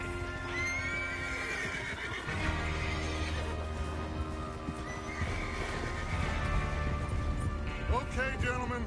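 Horses in Red Dead Redemption 2 whinny and snort repeatedly, with clip-clopping hooves and tack jingling close by, several neighs rising over a busy mix where a voice also speaks.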